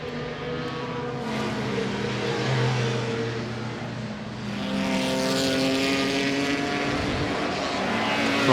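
A racing car laps the circuit at the Goodwood Revival 2014 meeting, its engine a loud, continuous, close drone whose pitch sags and then climbs again as it works through the gears, with no voices over it.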